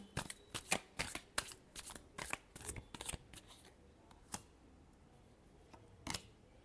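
Tarot cards being shuffled by hand, a rapid run of crisp riffling flicks for about three seconds, then a few isolated taps and snaps, close and clear in a quiet room.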